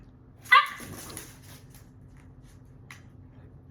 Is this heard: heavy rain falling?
no